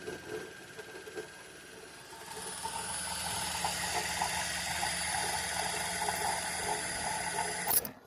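An Usha sewing machine running under foot-pedal power, its motor whirring and needle mechanism ticking steadily after a brief start, loud and close, then stopping abruptly near the end.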